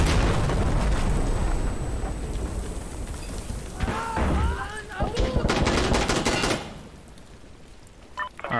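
Gunfire and a heavy explosion in the video game Insurgency Sandstorm: rapid shots and crackling bursts build to a loud detonation, with shouted voices in the mix before the noise drops away.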